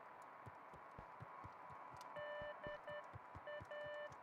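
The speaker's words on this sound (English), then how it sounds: "That's Morse code." A faint electronic Morse code signal in the video game Beacon Pines plays as a pattern of short and long steady tones. It sits halfway through over soft, rhythmic, pulsing background thumps.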